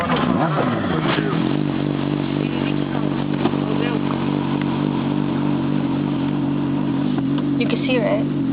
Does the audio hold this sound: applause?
no